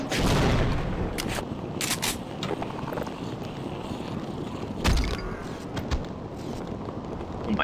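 Precision-weapon gunshots in the video game Afraid of Monsters form a loud, dense wash of gunfire with sharper reports standing out at intervals, close and continuous throughout.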